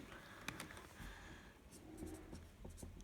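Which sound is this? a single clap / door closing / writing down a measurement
writing down a measurement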